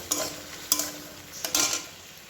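Ginger-tomato paste fries in a pan with a soft background sizzle while a spoon stirs it in three or four short, scraping strokes, close and moderately quiet.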